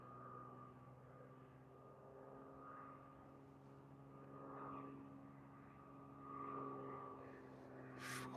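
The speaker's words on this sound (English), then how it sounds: "There it is. Ravenair Piper Turbo Arrow." A Ravenair Piper Turbo Arrow propeller plane lands at Liverpool Airport in a crosswind, its engine a faint, distant steady drone with slowly swelling hum, no talk heard.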